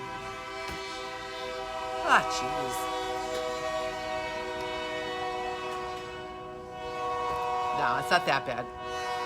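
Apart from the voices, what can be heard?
passing train sounding its horn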